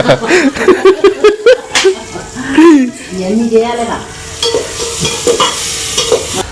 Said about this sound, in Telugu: ఆనియన్స్ అయితే కొంచెం ఫ్రై అయినాయి